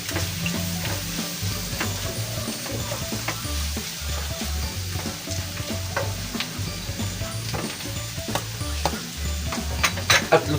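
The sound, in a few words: ground pork sisig frying and being stirred in a pan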